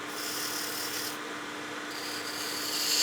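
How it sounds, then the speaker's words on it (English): A spindle gouge takes a light cut on wood spinning on a lathe, giving a steady soft scraping rasp that holds evenly throughout. "So I'll just turn that cut away just a hair."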